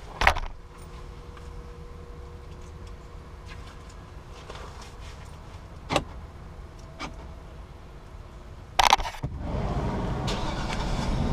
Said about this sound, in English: Let's go ahead and start this thing up real quick.